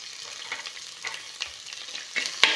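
Sliced onions dropped a little at a time into hot oil with curry leaves for a Kerala fish curry, giving a close, bright sizzle with several crackling bursts and stirring scrapes, and no talk.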